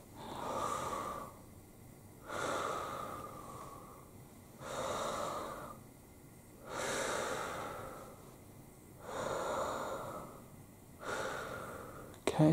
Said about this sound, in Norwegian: Så pust inn, men husk også å puste ut.